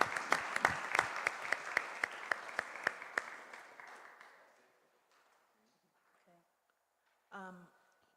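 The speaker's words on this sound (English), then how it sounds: "they deserve a round of applause" Audience applause at a school board of education meeting: a small group claps in sharp, distinct strokes that fade out after about four seconds, followed by near silence and a brief voice.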